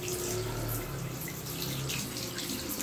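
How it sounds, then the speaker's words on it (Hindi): Water runs steadily from a ULTino-Pro instant water geyser tap, a continuous close splashing stream with no pauses. "पानी निकलने लगा है, देखिए लाइट भी ऑन हो गई है, पानी गर्म आने लगा है।"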